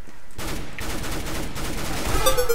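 Rapid gunfire from Counter-Strike: Global Offensive rattles in a loud continuous burst of sharp repeated shots lasting about two seconds, close and with no talking.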